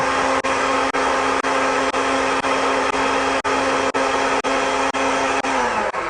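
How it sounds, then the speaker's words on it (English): A blender runs steadily, liquefying ginger with olive oil into a drink, a loud close motor whine with regular brief dips in pitch before it slows at the end. "Put it in the blender."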